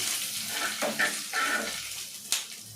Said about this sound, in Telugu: తుంచుకున్నటువంటి ఎండుమిర్చి కూడా వేస్తున్నాము ఇంతవరకు ఇలా కలిగి పెట్టుకోవాలి